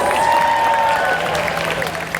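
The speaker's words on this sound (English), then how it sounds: "Everybody give Nicholas a round of applause." Audience applause at the Fear Factor Live stunt show at Universal Studios, a steady wash of clapping from a crowd with a voice and tonal sound carrying over it throughout.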